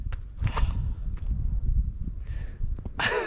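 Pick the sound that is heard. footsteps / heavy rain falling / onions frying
footsteps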